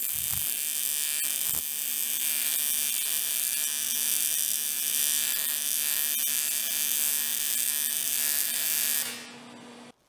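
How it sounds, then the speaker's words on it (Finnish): Welding of pipe ends on a homemade mini loader gives a steady, loud electric buzz and hiss close by that runs unbroken for several seconds before cutting off abruptly near the end. "päät on hitsattu"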